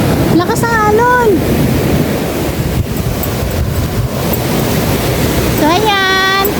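Strong ocean waves roll onto the shoreline at Baler, Aurora, a loud continuous roar of surf with wind buffeting the microphone, while voices speak briefly at the start and end.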